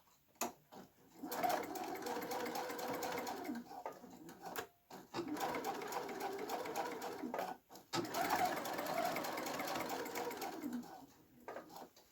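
Sewing machine stitching a reinforcing shoulder seam on a garment, running in long steady bursts with brief pauses between passes, close and fairly loud, with no talking.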